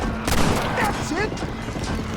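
A gunshot rings out in the Western video game Red Dead Redemption, one sharp crack followed by a short echoing tail alongside faint game sounds, with no speech heard.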